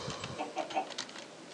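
A Minecraft chicken clucks several times in quick succession, soft and brief, with no talking.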